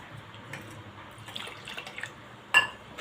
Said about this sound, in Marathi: आपल्याला अजून याच्यामध्ये पाणी टाकावं लागेल